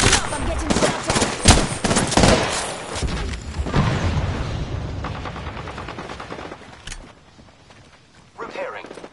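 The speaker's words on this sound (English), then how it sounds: "I'm getting shot at." Gunfire in Apex Legends: rapid clusters of loud shots and bursts early on, thinning into scattered pops and fading combat noise, with a voice talking over the fight.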